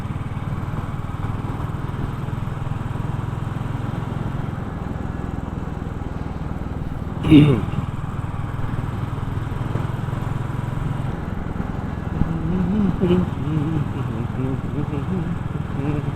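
A motorcycle ridden along a quiet, curving, tree-lined road at night makes a steady low engine drone, with one sharp knock partway through and a voice talking over it.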